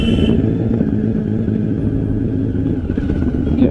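Motorcycle engine with an overheating problem, ridden along a rough village road, running steadily and loud throughout with a low rumbling drone and some rattling.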